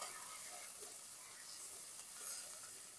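Garlic paste sizzles steadily while being stirred and fried in oil in a pan for an aar fish curry. The hiss is close and continuous, with one brief swell near the end and no voices.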